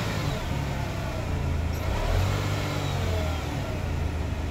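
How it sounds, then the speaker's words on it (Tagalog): A used car being inspected at an auction or bank repossession lot runs with a rough, noisy engine note, a steady low drone that swells slightly midway, heard fairly faint without speech. "Hindi maganda yung tunog ng makina niya."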